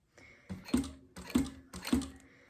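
A sewing machine stitches synthetic leather for a wallet in three short, separate bursts, each a quick mechanical whir with a sharper knock, close and fairly quiet.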